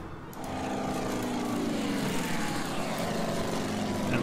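Propeller planes in the Order of Battle strategy game make a steady, droning engine roar that swells in and holds at a constant level, with no talk over it.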